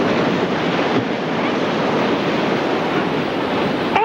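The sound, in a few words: ocean waves on a beach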